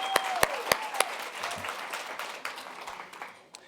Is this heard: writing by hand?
no